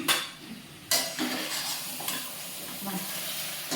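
Vegetables frying in a pot for vegetable biryani, a soft steady sizzle with a few sharp clanks of a spoon stirring against the metal, faint and close.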